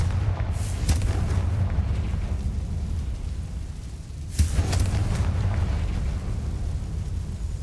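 Two heavy booming blasts from the Confringo fire spell in Hogwarts Legacy, the first near the start and a second midway, each followed by a long rumbling roar that fills the clip.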